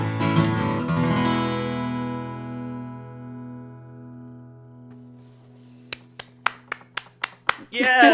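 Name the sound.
clapping part of a song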